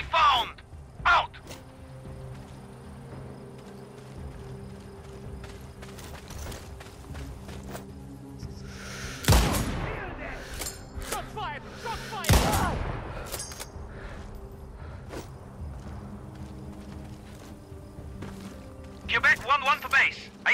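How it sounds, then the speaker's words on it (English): Gunshots in Sniper Ghost Warrior Contracts 2 during a stealth mission: two loud sharp reports stand out several seconds apart amid ambient game sounds, with radio voices talking elsewhere in the scene. "I hear shots."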